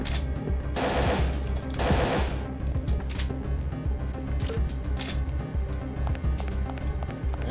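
Rapid gunfire and sharp shot bursts from the video game Parasite Eve 2, with a dense cluster of loud blasts early on, then scattered single reports over steady game background noise.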